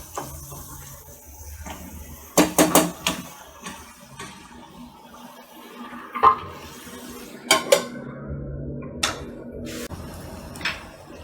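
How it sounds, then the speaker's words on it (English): Spoon scraping and clinking against a pot of mutton curry being stirred, a few sharp metallic knocks in quick bursts with quieter scraping between, close by and without talk. "So just give it a stir and cook it further for 3 to 4 minutes"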